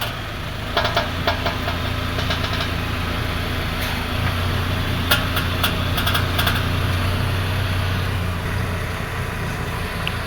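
A car's front suspension and steering produce a noise as the wheel is turned from full right lock, with a steady idling engine throughout and a few sharp clicks and knocks breaking through, close up and without talk.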